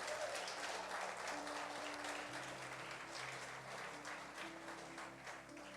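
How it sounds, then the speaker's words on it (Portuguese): Sustained applause from a church congregation, dense and steady throughout, with a faint tonal hum underneath and no voices standing out. "Quantos podem aplaudir ao Senhor Jesus por isso?"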